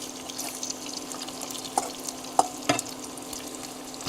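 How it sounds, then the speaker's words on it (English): Bacon sizzles softly in a pan of hot grease over low heat on a camper van stove, making a steady gentle crackle with a few small pops and a faint hum underneath. "keeping it on this low heat's pretty good because the bacon grease is already hot"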